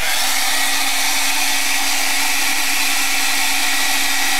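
A hair dryer blows on primed canvas being readied for acrylic paint, a steady, loud, close airy rush that runs unbroken throughout with no other sounds.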